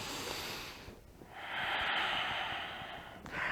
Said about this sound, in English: We take one more full breath here